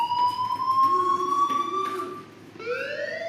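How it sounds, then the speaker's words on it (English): A fire alarm in the Life is Strange video game wails as a rising electronic siren tone, looping and sweeping upward with a brief dip before starting again, loud and continuous. "Hey, do you hear that fire alarm?"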